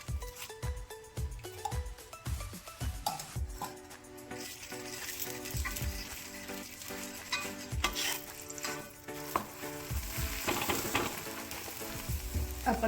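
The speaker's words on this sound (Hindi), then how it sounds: "अब पराठा तवे पे डाल देते हैं।" Aloo methi paratha cooking on a hot tawa with ghee, sizzling and crackling continuously up close, with repeated scraping and tapping from a spatula as it is pressed and turned.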